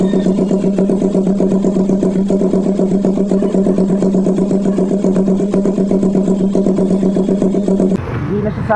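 A 2016 Z200S motorcycle engine runs steadily at idle close to the microphone, giving a loud, even, buzzing drone with a rapid pulsing rhythm that cuts off abruptly near the end.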